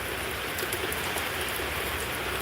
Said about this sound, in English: And the rain.